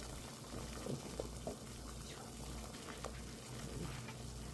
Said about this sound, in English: we have our water for our noodles on a rapid boil